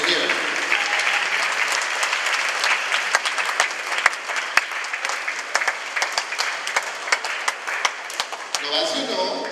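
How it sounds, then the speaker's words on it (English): School audience applause for Rotary Club members donating dictionaries to Class 3 students, a dense round of clapping with sharp individual claps cutting through, sustained for nearly ten seconds, with voices mixed in. "Give them a round of applause for even coming here."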